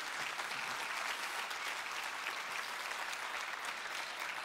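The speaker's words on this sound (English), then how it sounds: "Just one more round of applause for all of our guests tonight as they're exiting the stage." Another round of applause for baseball players and umpires leaving the stage at Scottsdale Bible Church, a dense, even roar of clapping from a large audience, unbroken and without talk.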